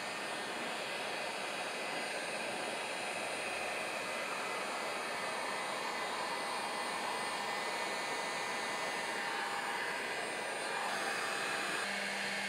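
A heat gun runs continuously as it heats hot glue for dry mounting onto plywood, a steady close blowing roar that barely changes, with a slight shift in tone near the end.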